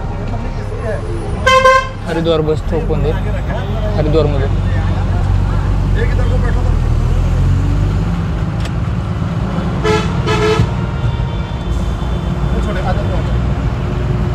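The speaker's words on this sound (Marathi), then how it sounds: "काय गव्हर्नमेंटच्या बसला काय रेल्वेच्या हॉर्न दिलेत का काय माहिती नाही" A government bus horn with a deep, train-like tone blares twice, once early and again later, over road traffic rumble while people talk nearby, on the Haridwar to Badrinath route.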